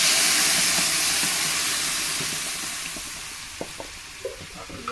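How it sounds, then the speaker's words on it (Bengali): Taro flowers sizzle and hiss in hot mustard oil with popped mustard seeds, a steady broadband frying noise that slowly eases, with a few small crackles and clinks near the end. "এই তেল আর সরিষার উপর আমি এই যে কচুর ফুলটা দিয়ে দেবো"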